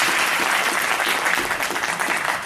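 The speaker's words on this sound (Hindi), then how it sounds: "जोरदार ताली बजा करके उनका स्वागत करें।" An audience at a Bhagavat Katha religious gathering in America claps loudly in dense, steady applause that fills the whole moment without pause.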